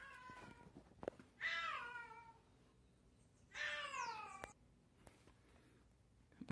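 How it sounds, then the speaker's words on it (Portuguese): A cat lets out two drawn-out meows a couple of seconds apart, fairly close by in a quiet indoor room, with faint handling noises between them. "O gato interrompeu."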